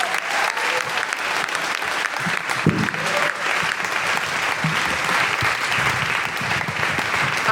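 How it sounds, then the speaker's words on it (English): Dense, steady applause from a live studio audience at a comedy podcast recording, a broad wash of clapping that holds for several seconds without a break. "Give yourselves a round of applause"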